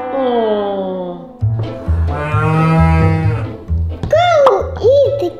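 A cow moos at a farm with a long, drawn-out low call, while children's voices chatter and babble nearby throughout.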